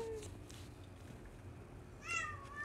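A cat meows twice, faint and somewhat distant. One brief call comes at the start, and a longer, clearer meow rises near the end over a quiet low background hum.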